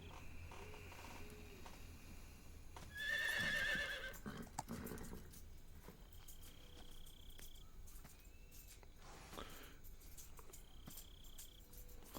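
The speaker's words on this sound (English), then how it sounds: "Here comes the horse." A horse gives one loud whinny early on in Metal Gear Solid 3: Snake Eater, followed by faint hoofbeats and ambient game sounds with insect-like chirps.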